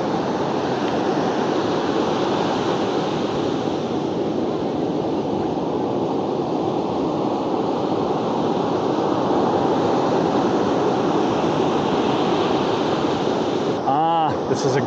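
Big post-storm ocean surf breaks on a beach busy with surfers, a continuous loud roar of crashing waves with wind buffeting the microphone.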